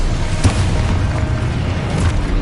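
The Exposo explosion spell in Hogwarts Legacy on PS5 gives a low, booming burst over a steady rumbling bed, with a second softer pop near the end.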